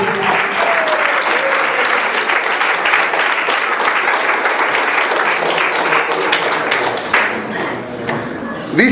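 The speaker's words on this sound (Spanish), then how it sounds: "Un aplauso fuerte." Loud, dense applause from a church congregation fills the room continuously, a strong sustained roar of clapping that eases slightly near the end.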